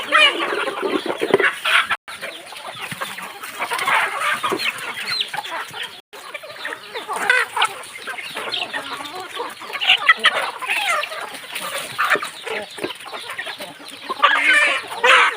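Chickens cluck busily inside a coop in the morning, with overlapping close and farther calls and an occasional crow.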